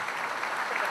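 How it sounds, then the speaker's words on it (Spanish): Applause from an audience at a live comedy show, a brief dense burst of many hands clapping at moderate level, with no speech over it. "el aplauso fuerte también para la UPP"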